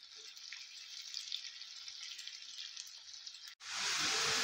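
Onions frying on a high flame until golden brown for dhaba-style chicken bharta, a soft steady sizzle that suddenly swells into a much louder, fuller sizzle near the end.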